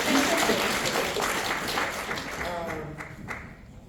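An audience claps for a speaker on a multigenerational panel at a Northwest Portland area Indian health board event, a dense, sustained round of applause that tapers off toward the end, with no talk over it.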